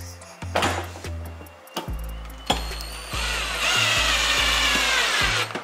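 A power drill drives screws into a kids' ride-on toy in short, repeated bursts of whirring motor with a final longer run, close and loud, with clicks and handling between the bursts.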